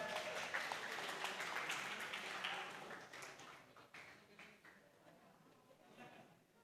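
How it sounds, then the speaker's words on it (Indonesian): Applause from a crowd at a school webinar event, steady clapping that gradually fades, with voices chattering underneath. "Tepuk tangan dulu."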